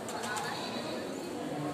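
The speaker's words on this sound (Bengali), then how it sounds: "জালালি কবুতর" Jalali pigeons cooing faintly at the Shah Jalal shrine while they feed on rice, mostly masked by someone speaking over them.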